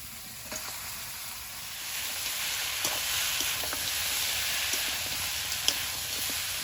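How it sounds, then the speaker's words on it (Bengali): Katla fish head frying in hot oil with freshly fried spices, a steady close, continuous sizzle with faint stirring clicks throughout, no voices. "মশলাটা ভাজা হয়েছে এবার মাছের মাথাটা দিয়ে দেবো"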